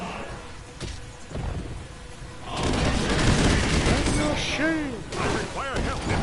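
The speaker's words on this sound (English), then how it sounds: "Airstrike!" An airstrike in the Marvel Ultimate Alliance game brings a heavy burst of rapid gunfire and booming impacts, loud and close, with chirping effects cutting through and voices talking over it.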